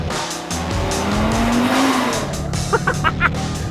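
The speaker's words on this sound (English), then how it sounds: "Oversteer in an Audi RS3?" Audi RS3 Sportback, a 400bhp four-wheel-drive hot hatch, oversteering with a sustained engine drone and a rising tire squeal, followed by several short chirping squeals near the end.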